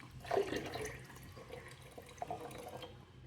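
Water poured into a jar over a seed mixture, a soft splashing and trickling that surges near the start and again later, close and fairly quiet.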